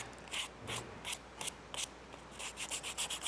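Coarse 120-grit sandpaper rubs a tooled leather knife sheath to take off leather and leftover glue, close rhythmic scratchy strokes in short bursts that quicken toward the end, with no talk.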